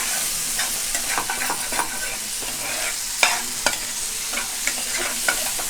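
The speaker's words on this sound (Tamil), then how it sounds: "இதை நல்லா இப்போது கலந்து விட்டுடலாம்." Mushroom Frankie roll filling frying in a pan, a steady close sizzle punctuated by repeated scraping and tapping strokes of a spoon stirring it.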